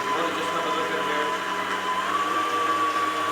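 Electric mixer creaming butter and caster sugar in a bowl for shortbread, a steady whirring motor drone with a faint rising whine, continuous and close throughout.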